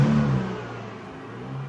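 A car engine revs hard at the start with a strong, steady low growl, then eases to a lower idle rumble. No one speaks.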